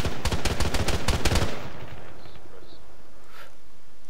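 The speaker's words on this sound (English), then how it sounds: "There's a machine gun." Loud, close machine gun fire in Arma 3 hammers out a fast, steady burst for about a second and a half, then cuts off and leaves a low rumbling tail and faint distant noises.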